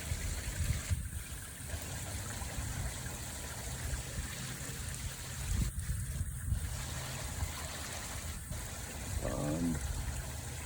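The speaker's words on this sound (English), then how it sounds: "Waterfall." Garden pond waterfall heard from a few steps away, a steady broadband rush of falling water with a few brief interruptions, continuous and moderately loud throughout.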